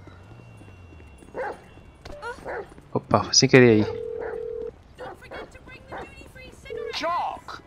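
A dog barks a few times in Grand Theft Auto V, set in Rockford Hills, in short bursts near the middle, mixed with game sounds while someone speaks over it.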